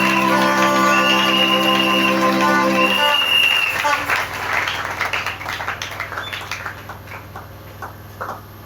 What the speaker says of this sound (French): Acclamez encore le Seigneur.